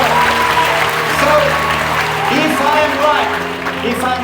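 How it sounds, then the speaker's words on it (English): Audience applause after a show on a cruise ship, a sustained loud wash of clapping from a crowd, with a voice talking over it. "Another big round of applause for these 3 people that just have the hour show."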